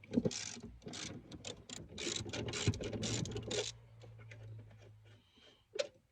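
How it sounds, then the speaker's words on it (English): A ratchet works 14mm bolts loose on a 2007-or-later Toyota Tundra, giving rapid clicking pawl bursts close by, then a pause and one last short clack. "let's start with removing these bolts."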